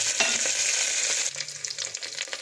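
Mustard seeds sputter in hot oil for a Tamil vegetable kuruma, a loud steady sizzle with dense popping crackles that thins out partway through.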